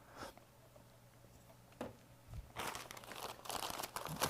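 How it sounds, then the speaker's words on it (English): Zip ties are pulled out of plastic packaging during electrical wiring work on a VRS Swerve 10, with faint, sparse crinkles and snaps at first, then a burst of close rustling and crackling. "A few more zip ties out."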